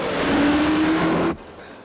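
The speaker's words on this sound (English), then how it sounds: "What a beautiful car. That's a 911 Turbo." A Porsche 911 Turbo engine roars loudly and steadily for just over a second with a thin whine riding on top, then cuts off abruptly into a quiet background.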